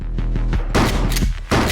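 Rapid gunfire from a shooting video game sounds in loud, dense bursts, first a quick repeating rattle, then heavier overlapping shots with a short pause before another burst.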